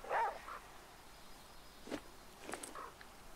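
Dog companion in the video game The Flame in the Flood, making a short bark or yip at the start and a few faint whimpers and rustles afterward.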